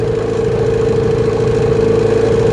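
A Mikatsu 9.8 outboard motor runs steadily during break-in, a loud, even mid-pitched drone with constant buzzing, close and unbroken, no voices.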